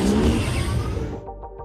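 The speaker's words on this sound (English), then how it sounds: "We have the Tron motorcycles." A Tron light-cycle motorcycle effect from the Skywalker Sound library: a loud, close electronic engine whoosh that sweeps past and fades out within under two seconds.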